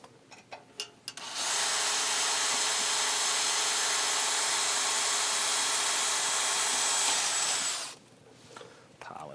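A power drill whines continuously at high speed for several seconds while drilling a pilot hole in metal, loud and close, with brief clatter before and after.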